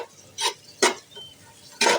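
Garlic fries in a pan for a water spinach stir-fry, three loud bursts of a utensil scraping and stirring against the metal over a faint background sizzle.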